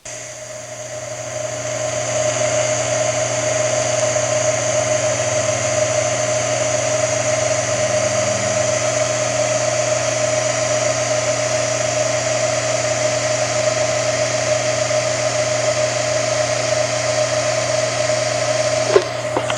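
TIG welding at 40 amps with the foot pedal floored gives a steady, continuous electric hum and buzz that holds evenly at close range for the whole stretch, with no voices.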